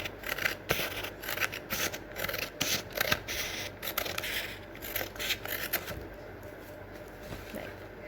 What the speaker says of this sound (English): we will start cutting thin strips from our A4 sheet